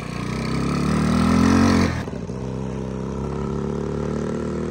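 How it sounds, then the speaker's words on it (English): A 1985 Honda ATC 110 three-wheeler's small engine revs up loudly for about two seconds, then drops abruptly to a steady buzzing idle, close by. "It sounds like a tiny motorcycle."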